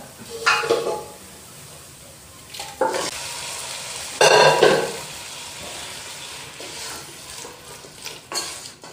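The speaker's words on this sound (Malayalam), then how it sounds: "ഇനി നമുക്ക് വേവിച്ച് വെച്ചിരിക്കുന്ന നമ്മുടെ ബീഫ് ചേർക്കാം." Cooked beef tipped into onion masala frying in a pan and stirred, soft steady sizzling with a few louder scraping and clattering stirs, no talking.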